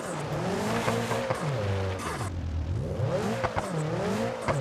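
A Peugeot 405 engine in BeamNG.drive strains and revs while climbing a hard off-road slope, loud rising and falling engine whine with tire scrabbling.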